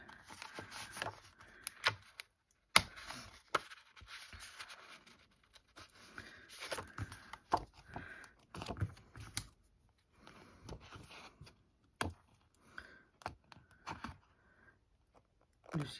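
Scissors snip through pre-cut paper for a Christmas bauble, with faint, irregular small clicks and crinkles spread across the stretch, close and quiet.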